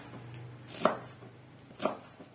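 Two separate knife strokes slicing rolled vegetables lengthwise on a board for a simple stir-fry, each a short crisp cut a second apart, close and fairly quiet over a low background hum.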